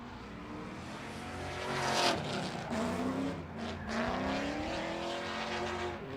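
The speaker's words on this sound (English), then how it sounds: "Chris Ward, V8-powered S13" V8-powered Nissan S13 drift car at a Formula Drift night round in Las Vegas, engine roaring steadily with rising tire squeal and skidding, heard from a distance over crowd noise.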